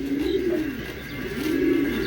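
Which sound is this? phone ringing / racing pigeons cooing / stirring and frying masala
racing pigeons cooing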